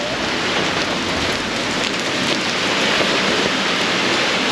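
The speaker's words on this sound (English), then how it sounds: "in the background, it is raining cats and dogs out here" Heavy rain pours steadily, a dense, constant hiss of water drumming on surfaces close by, with no break across the clip.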